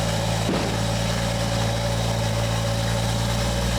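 A BMW F30 335i idles steadily after its first start with the exhaust valve closed, giving a loud, even, close-up hum with one brief click near the start.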